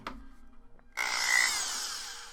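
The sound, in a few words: power drill driving motherboard screws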